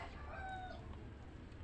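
A chicken gives a brief run of soft clucks, faint and slightly distant, over a low steady background hum.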